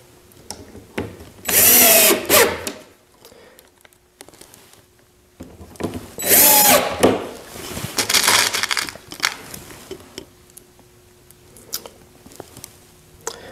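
Power drill driving screws to fit hinges onto a wooden lid for a guinea pig pen, two loud whirring bursts with quieter clattering and handling between them, close by.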